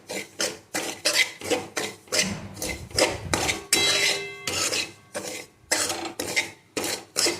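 Semolina roasting in ghee is stirred in a pan with a spoon, giving a series of scraping, rasping strokes in an uneven rhythm, close and clear with short pauses between passes.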